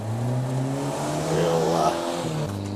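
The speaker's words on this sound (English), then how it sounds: "The old Peugeot 404." An old Peugeot 404 passes on the road, its steady mid-range engine hum rising and swelling as it nears, then easing off, loud and continuous with traffic noise around it.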